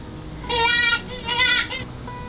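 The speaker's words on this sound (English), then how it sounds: "Yeah, that's the jackrabbit." A jackrabbit call plays from a toy button at an indoor playground: two bright, squealing, bleat-like cries in quick succession over a faint background hum.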